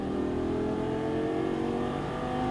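A Lamborghini Gallardo's engine pulling hard on a racetrack, a loud, steady rising mechanical roar heard from inside the car with no talking.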